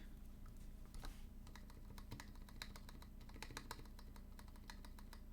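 Keys clatter on a custom 75% Singa polycarbonate keyboard fitted with Roselio switches and stabilizers, a quick, irregular run of crisp close clicks and thocks, quiet and without talk.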